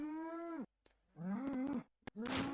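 Cows in the South Park video game moo loudly three times in a row, each a long low bellow separated by short pauses and brief clicks.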